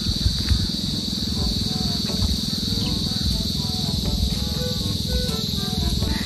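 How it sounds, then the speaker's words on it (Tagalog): Crickets chirp steadily in the evening air at a fish farm, a dense high-pitched trill that carries on continuously, with a constant background hum and faint distant sounds mixed in. "Ay kuliglig na."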